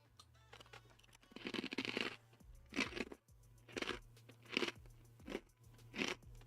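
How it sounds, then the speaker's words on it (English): Crisp, loud crunching bites of a vanilla cookie repeat every second or so, each a dry crackling burst of chewing close to the ear, with no talking. "Very crunchy."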